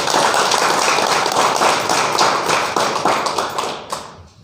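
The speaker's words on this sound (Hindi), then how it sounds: "तो उसके लिए एक बार जोरदार ताली होनी चाहिए" An indoor audience claps loudly and continuously for several seconds at a DXN India gathering in Ranchi, the applause tapering off toward the end.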